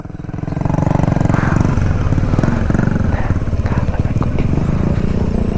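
A motorcycle rides a hill road near Yercaud, its engine loud and close with a steady rumble throughout after a brief quieter start.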